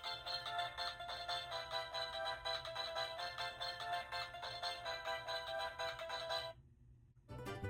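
The sound box inside a Mario Superstar plush plays a bright, beeping electronic jingle, looping steadily and fairly close before cutting off abruptly near the end.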